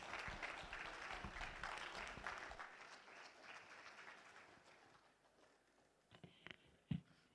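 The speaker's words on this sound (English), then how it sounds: "A round of applause." An audience at a Kwibuka30 remembrance event claps in sustained applause that gradually thins and fades, ending with a few isolated claps.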